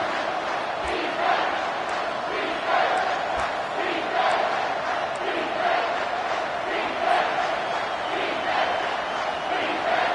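A stadium crowd in a Madden/NCAA American football video game roars and cheers steadily throughout, a dense, loud wash of voices rising in waves during a red-zone defensive stand late in the game.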